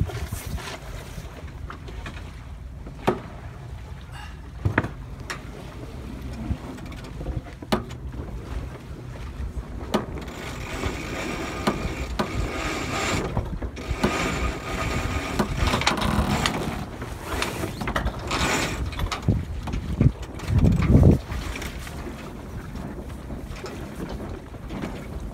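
A sailboat tacking on open water between Gulfport and St. Petersburg, with steady wind rush across the microphone, water wash, and scattered clicks and mechanical creaks from rigging and winch, plus a louder rustling flap near the end.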